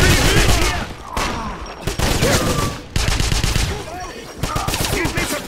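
Gunfire in Wolfenstein 2009 game combat, loud rapid bursts of automatic weapon fire in several volleys separated by short gaps, close and dense with echoing shots.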